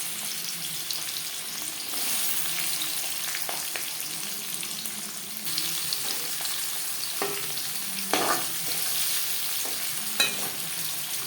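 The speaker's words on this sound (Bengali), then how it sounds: "কড়াইতে দিয়ে দিয়েছি ছ চামচ মতো রিফাইন্ড অয়েল এবার দিয়ে দেব পেঁয়াজ কুচি" Chopped onion sizzles steadily in refined oil in a kadai for chicken biryani, a continuous close hiss with a few soft stirring knocks and clinks near the end.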